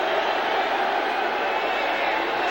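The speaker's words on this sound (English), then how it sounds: "Little chant of defense going up now from the crowd, what there is of it." A sparse football stadium crowd, Eagles at Giants, raises a thin, steady chant of "defense" on third down, a continuous far-off wash of voices with no clear rhythm standing out.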